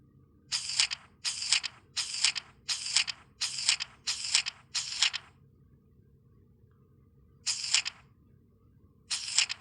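Pages of a Quran para are opened and turned, making a quick run of seven crisp, evenly spaced flicks followed by a pause and two more, all in a quiet room.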